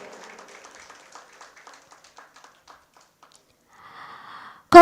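Applause from an audience at a Malayalam film press meet, a steady patter of clapping that fades out midway before a second short burst, ending in a loud close knock.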